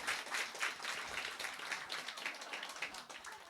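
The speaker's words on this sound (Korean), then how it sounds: "박수 한번 주세요, 여러분." A church congregation applauds during a Sunday service, a dense steady clapping from many hands that carries on for several seconds at moderate level.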